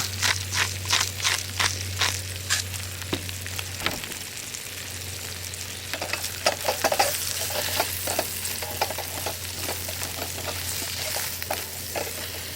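Button mushrooms sauté with salt and black pepper in a camp pan, a close sizzle broken by rapid rhythmic scraping of a utensil early on, then looser stirring clatter over a low steady hum.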